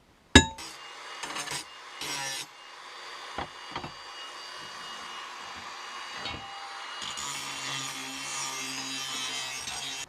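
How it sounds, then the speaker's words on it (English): An angle grinder works the edges of a metal winch plate part, a sharp opening hit followed by a sustained abrasive whine with short interruptions, then a rougher, louder grinding stretch near the end. "Now we'll just grind the edges, make sure they're not sharp, and weld it to the winch plate."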